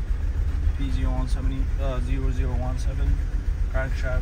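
A GMC Canyon in reduced power mode with its idle position not learned, its engine running rough with a constant low rumble beneath someone talking throughout.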